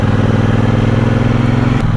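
A 2021 Triumph Bobber motorcycle rides along the road, its engine giving a steady, loud, close-up drone with a pulsing low throb that holds even throughout, shifting slightly in pitch near the end.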